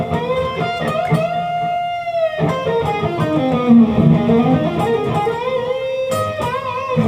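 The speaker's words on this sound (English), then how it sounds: "you're just going to walk down the pentatonic scale" Electric guitar notes step downward through a pentatonic scale, each note ringing into the next, with bends and sustained tones, played alone and fairly loud, from a solo.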